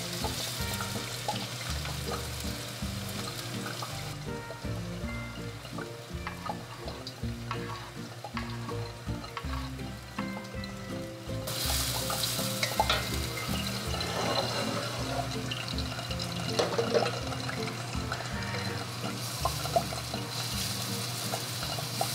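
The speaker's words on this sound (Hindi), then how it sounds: "अब जल्दी से तड़का लगा लेते हैं।" Steady crackling sizzle of garlic frying in hot oil for a tadka, loud and close, with brief clatter of stirring and no voices.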